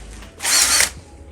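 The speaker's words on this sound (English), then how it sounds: "a power drill." A cordless power drill fitted with a metal drill bit, used during a rear spoiler install on a Honda Accord Euro; one loud, high whirring burst of under half a second, close by, with no talking.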